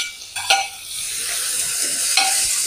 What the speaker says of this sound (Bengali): এবার একটু নেড়ে চেড়ে নিই।